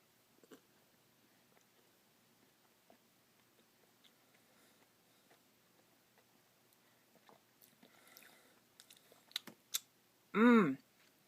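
Chewing on a DQ Ultimate Cookie Blizzard treat mixed with Chips Ahoy and Nutter Butter cookie pieces, soft faint mouth sounds and crunches scattered quietly through, ending in a short louder burst.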